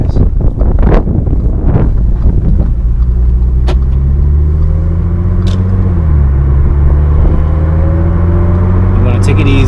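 A car with a freshly installed mechatronics repair kit in its transmission drives along, its low engine drone and road rumble steady and close, with shifting pitch and some wind buffeting, while a voice talks over it early on.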